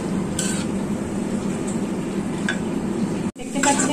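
Turmeric powder and salt are stirred and fried in a pan: a soft, steady background hiss broken by a few light clinks and scrapes of a utensil against the metal, heard close.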